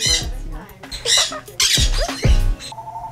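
A parrot in a parrot shop gives several sharp, harsh squawks in quick bursts, loud and close, with quieter gaps between them and a short whistled note near the end.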